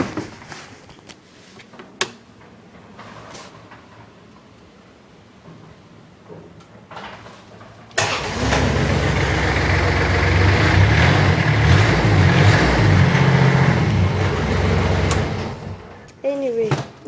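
A farm utility vehicle with a Kawasaki engine and CVT gearbox starts up and runs, a loud, steady engine drone close by after a few quieter knocks and clunks.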